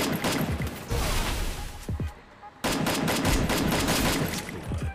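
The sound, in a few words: gunshots in mobile shooting video game, headshot kill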